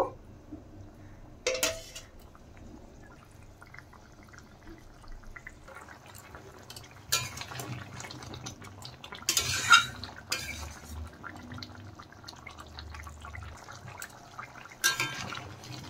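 Pieces of fried bata fish slid into a pan of simmering mustard curry, with clinks of a utensil against the pan, soft liquid bubbling and occasional sharper scrapes and clatters over a low background hum.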